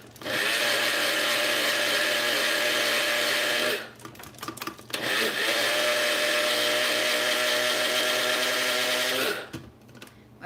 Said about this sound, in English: When I hear the blender struggling like that,